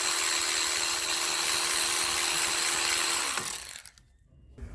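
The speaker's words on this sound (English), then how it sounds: "you're just going to want to go through and take all the 10mm bolts off" A power tool whirs steadily on the 10mm bolts of a Ford 6F50 transmission solenoid body, loud and close, then cuts off abruptly after about three and a half seconds, leaving near quiet.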